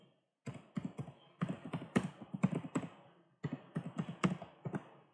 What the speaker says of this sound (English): suppose I type my email address